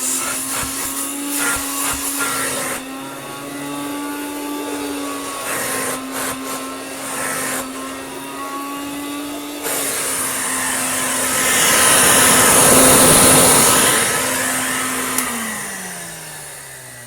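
An antique refurbished Canadian Hoover Dustette 100 handheld vacuum cleaner runs loud and close, a steady motor whine that shifts pitch and surges as it is moved around, then winds down at the end.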